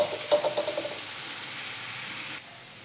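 Vegetables frying in hot oil for veg fried rice give a steady close sizzling hiss, with a few light clinks of stirring early on before the frying settles into a smooth, even crackle.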